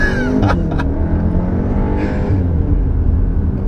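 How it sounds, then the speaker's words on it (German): A Cupra Formentor SUV with a 310 PS engine accelerates hard with ESC switched off, a loud, close engine roar rising through the gears for several seconds. "Ah, jetzt hört man den Motor ein bisschen"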